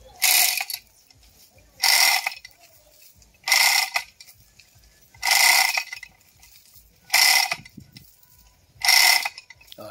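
Chain hoist ratcheting in bursts while pulling down a rain tree outdoors: six loud, close clattering pulls of the lever, about one every two seconds, with quieter gaps between.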